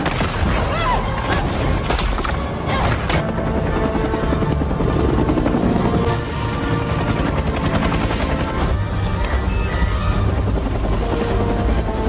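In a disaster film, a helicopter flies over earthquake and tsunami destruction. Its loud, steady rotor and engine roar is layered with booming crashes and rumbling debris throughout.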